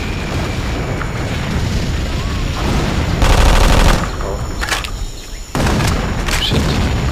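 Grenade blasts and rapid gunfire in a multiplayer first-person shooter match, a dense, loud run of booms and bursts of shots with short pauses, and brief voices from players in the background.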